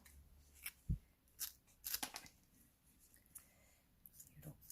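Kitchen scissors trim the fins off a cod, making a series of close, crisp snips and crunches spaced irregularly, with quiet talk in the background.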